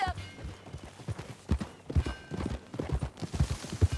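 Horse hooves clip-clop at a steady riding pace in Red Dead Redemption 2, the rhythmic thuds fairly close and mixed under bits of game dialogue and ambient sound.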